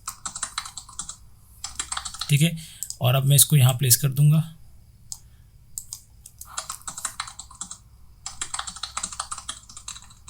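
Keyboard typing sound effect from the CapCut library plays as rapid, busy clicking in bursts, with a short stretch of someone talking in the middle.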